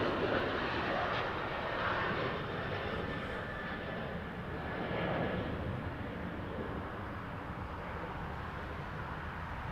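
A Boeing 747 operated by Atlas departs at LAX, and its engines roar in a steady broad rumble that swells slightly midway. The sound is heard from a distance outdoors and holds at a constant level.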